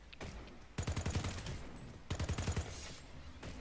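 Carbine gunfire in a video game, two rapid bursts of several shots each, sharp and punchy, separated by brief pauses with a single shot at the end.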